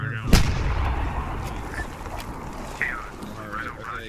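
A fragmentation grenade detonates during a chaotic joint special forces combat exercise, a single sharp loud blast near the start followed by lingering rumble, with shouting voices and radio-like chatter throughout.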